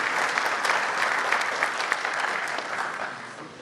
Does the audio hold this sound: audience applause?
yes